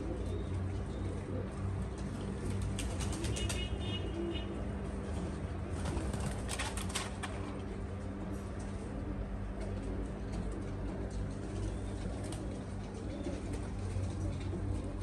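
Pigeons coo softly and steadily in a loft, with brief bursts of wing flapping and a constant low hum beneath, a voice faint in the background.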